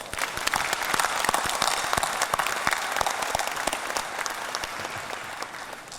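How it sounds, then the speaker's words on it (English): A large convention crowd in Manila, Philippines, applauding loudly and steadily, dense clapping that holds at full strength from start to finish, with no talk over it. "Let's give all of them a round of applause."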